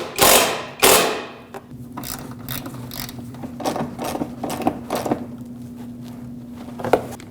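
A hand ratchet snugs up the plastic-mounted bolts of a windshield washer reservoir on a 2006-2015 Lexus IS250: a couple of loud handling knocks, then a series of quick, close clicking bursts over a faint steady hum.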